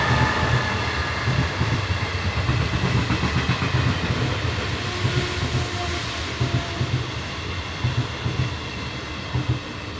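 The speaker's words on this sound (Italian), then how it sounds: "Scusate che passa il treno," A train rumbles past nearby in a steady, loud roar, with a rhythmic clatter of wheels over the rail joints sustained throughout.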